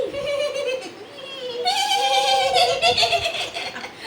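A voice playfully imitates a goat's bleat, a wavering, quavering cry that breaks into laughter-like bleating, close and fairly loud.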